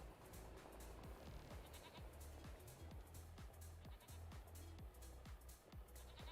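Goats bleat repeatedly in Farming Simulator 25, a steady run of short overlapping cries from a nearby penned herd over a constant low rumble of background ambience.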